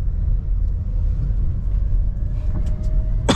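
Manual car being driven and shifted into second gear, a steady low engine and road rumble from inside the cabin with a faint click near the end.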